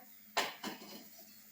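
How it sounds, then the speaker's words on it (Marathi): A metal kadhai is set down on a gas stove, giving two close clanks in quick succession, the first sharper and louder, followed by a faint ringing tail in a quiet kitchen. "कढई घेतलेली आहे, ते आता गॅसवर आपण ठेवूया"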